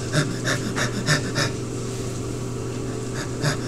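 A voice imitates the abnormal breathing pattern seen with brain swelling crushing the pons, producing a series of rapid, rhythmic panting breaths close to the microphone that then pause briefly before resuming.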